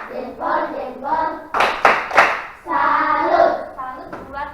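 Schoolchildren in a classroom chant a 'tepuk salut' applause routine, with voices rising in rhythm and a short burst of sharp, close hand claps midway before the chanting resumes.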